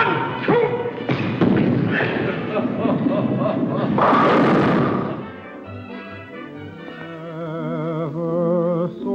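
A bowling ball rumbles loudly down the lane and crashes into the pins in a 1940 film scene, the rolling noise building to a burst before music takes over.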